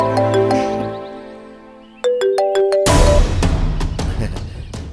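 A mobile phone rings with an incoming call, its clear melodic ringtone repeating short tones before a burst of louder, busier noise takes over.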